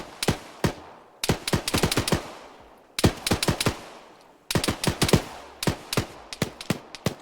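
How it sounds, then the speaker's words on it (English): In-game gunfire in Arma 3 as a player is shot: sharp, loud rifle bursts in rapid clusters of several shots each, separated by brief pauses, with no voices. "Andrew gets shot."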